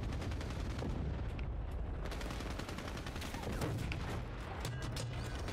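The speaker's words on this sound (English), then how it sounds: "they're shelling the shit out of this area" Artillery shelling in the video game Battlefield: Bad Company: a dense, continuous barrage of rumbling blasts and crackling gunfire fills the scene, sharp reports popping over a heavy low roar.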